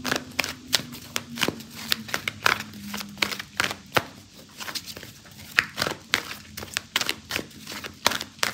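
Tarot cards are shuffled by hand in a steady run of soft, rapid riffling flicks and papery slaps, close and quiet, continuing without pause and with no talk.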